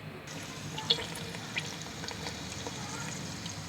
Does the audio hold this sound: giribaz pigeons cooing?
no